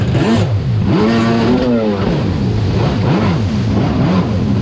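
Krash jet ski engine with an aftermarket exhaust pipe revving hard and close, a loud throaty drone broken by repeated quick blips that rise and fall in pitch.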